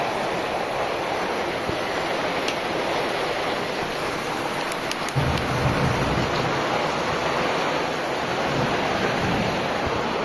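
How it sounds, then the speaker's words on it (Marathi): Heavy rain pours down in a dense, steady hiss, close and loud, without pause and with no voices. "खूप छान असा पाऊस येत आहे"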